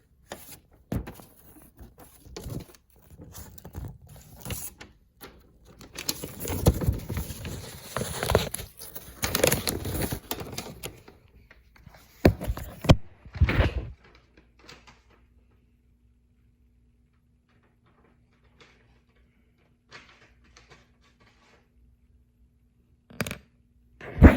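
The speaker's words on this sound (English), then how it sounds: "I will be putting them onto a paper bindle using this scraper right here." A scraper rasps paint chips off a window sill in a run of close, irregular scratchy bursts for several seconds before quiet settles in, with a couple of brief knocks later.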